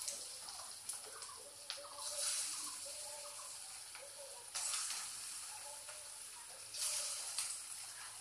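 Young jackfruit kofta balls dropped one by one into hot mustard oil for a vegetarian malai kofta curry: quiet, steady sizzling with brighter crackling bursts as each ball goes in.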